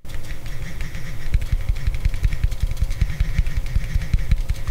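Rapid taps on a cheap $29 smartphone's touchscreen keyboard with haptic feedback, a steady stream of short buzzing clicks in quick succession, close and fairly loud, with no talking.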